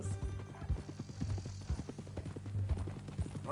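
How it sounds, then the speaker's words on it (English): Horse hooves clip-clop in Red Dead Redemption 2, a quick uneven run of close, sharp steps over a background of game music. "Hey, that new horse?"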